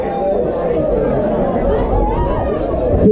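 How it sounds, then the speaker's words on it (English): A steady, loud crowd babble fills a Nottingham Ultra MMA venue during a women's bout, with constant overlapping chatter and no breaks across the moment. "Keep the noise, crowd, keep the noise."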